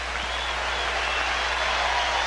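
A basketball arena crowd in a 1983 Kings vs Lakers game applauds in a steady, even wash of clapping and cheering, with a faint voice underneath.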